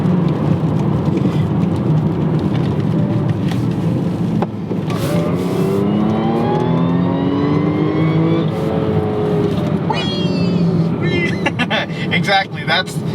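A supercharged Audi S4 revs hard while driving, a loud continuous engine roar with rising whine sweeps as it accelerates, under talk from people inside the car.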